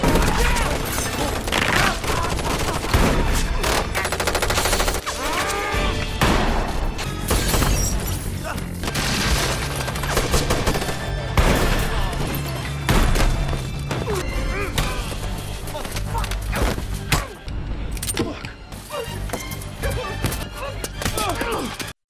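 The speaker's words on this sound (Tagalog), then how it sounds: "biglang binaril ng lalaki si Jack at naganap ang isang shootout" Gunfire rings out in a film shootout in front of a house, with dense bursts of shots, shattering impacts and heavy thuds layered under a loud dramatic score, alongside intermittent voices.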